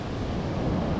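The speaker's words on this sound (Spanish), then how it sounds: "Como se pueden dar cuenta, el mar es súper picado." Rough sea surf washing onto a beach at Palomino, Colombia, a steady broadband roar with some wind buffeting the microphone, continuous throughout and with no voices.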